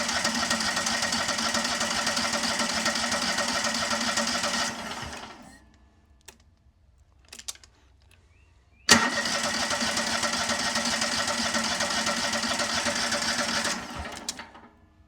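A Kohler EFI engine cranking steadily and loudly while its new, empty fuel pump primes, in two long sustained bursts separated by a quiet pause with a few faint clicks.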